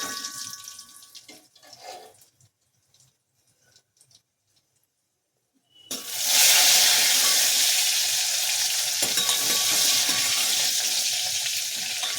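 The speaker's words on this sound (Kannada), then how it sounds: "ಬೆಳ್ಳುಳ್ಳಿ ಸ್ವಲ್ಪ ಫ್ರೈ ಆಗಬೇಕು." Garlic and curry leaves sizzle loudly in hot oil in a pan for bele saaru, a lentil sambar, a strong steady fry that bursts in after a quiet stretch of faint kitchen clatter and continues unbroken to the end.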